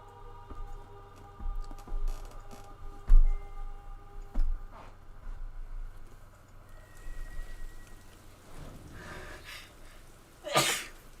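A single short sneeze rings out in a quiet fantasy game scene, set against faint rain-like patter, soft ticking and low ambient rumble, with a brief sharp burst near the end.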